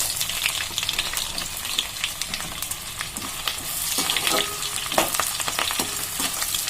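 Onion and green chilli pieces frying in oil with whole spices for a palak paneer biryani, a steady dense sizzle with crackling pops and occasional stirring scrapes, close and continuous without talk.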